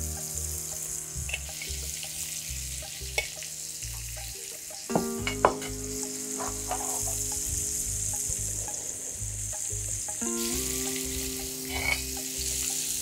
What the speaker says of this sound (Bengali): এটাকে সব দিকে উলট পালট করে আপনাকে এটা ফ্রাই করতে হবে।